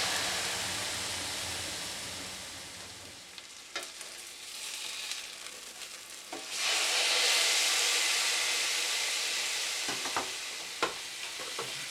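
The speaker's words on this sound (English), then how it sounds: "And in goes the lamb." Lamb sears in hot extra virgin olive oil in a pan, giving a steady loud sizzle and hiss that swells as the meat goes in, with a few light clatters of the pan and utensil.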